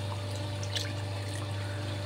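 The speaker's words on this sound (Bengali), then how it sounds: "ওই গরম পানিটাই আমি দিয়ে দিচ্ছি ভাতেতে" Hot water pours steadily into a pot of rice on a gas stove, a continuous close gush over a low hum, with no talking.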